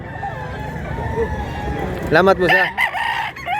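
A rooster crows at the Mantalungon chicken market in Cebu, a short wavering call rising over the crowd's murmur, with people talking nearby.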